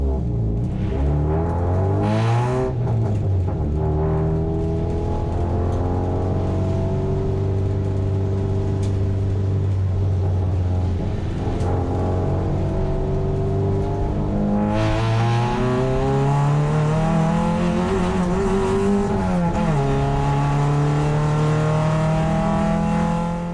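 A race car in wet qualifying at Phillip Island, running without wet tyres: its engine drones loud and close throughout, pitch climbing and dropping with gear changes, no voices.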